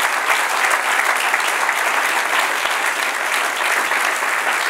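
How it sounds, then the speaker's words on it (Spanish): A church congregation claps loudly for the Lord during a worship service, a continuous, even wash of applause filling the whole stretch with no break. "Dele un aplauso fuerte al Señor"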